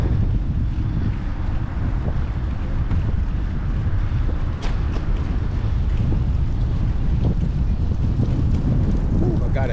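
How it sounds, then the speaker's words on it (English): Strong wind roars against the microphone while riding a bicycle on a blustery day in Savannah on the East Coast Greenway, a dense, constant rumble throughout with occasional gusty bumps. "this windy, blustery day, a little frustrating"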